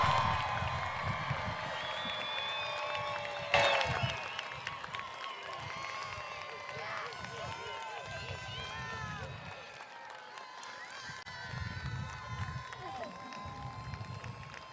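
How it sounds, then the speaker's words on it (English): A large audience at a high school commencement ceremony applauds and cheers for the graduates, a sustained, fairly distant wash of clapping with whoops and shouts, one sharp burst near the start and the crowd noise swelling and easing throughout. "let's get up on our feet and give them one big round of applause for making it all the way out"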